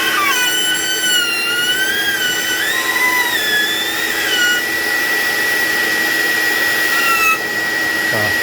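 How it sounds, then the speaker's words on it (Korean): A vacuum cleaner runs steadily and loudly at close range while cleaning inside a Fuji Xerox multifunction copier during drum unit replacement, its motor whine shifting in pitch as the nozzle moves. "그 다음에 청소기로 드시고"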